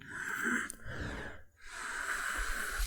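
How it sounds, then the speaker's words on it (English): Deep nasal inhales and exhales during a gentle yoga flow for back relief, two long airy breaths separated by a brief pause, close and soft with no talking. "Inhale, breathing in deep."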